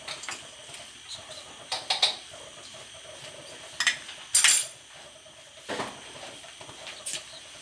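Metal spoon clinking and scraping in a pan while chicken egg noodles are mixed, a series of irregular close taps and clatters over a quiet kitchen background.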